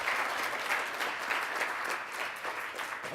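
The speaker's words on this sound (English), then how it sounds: "let's give a quick round of applause" Audience applause at a web development workshop, steady dense clapping from a roomful of people holding at an even level throughout, no voices over it.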